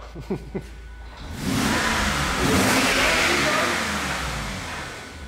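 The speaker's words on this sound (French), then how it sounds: "Vas-y, fais crier le moteur." A BMW 750iL V12 engine, left ten years in a field, revs up sharply and holds a loud, roaring high pitch before easing slightly, after a few brief knocks at the start.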